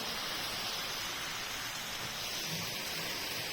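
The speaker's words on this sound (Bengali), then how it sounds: "কি হচ্ছে বাইরে বৃষ্টি হচ্ছে" Rain falls outside during the monsoon as a dense, steady hiss of broadband noise, unbroken and fairly loud throughout the short stretch, with no voices.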